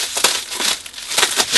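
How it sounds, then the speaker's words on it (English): Bubble wrap being handled during unpacking, giving close, loud crinkling and rustling in short bursts. "we've got some bubble wrap"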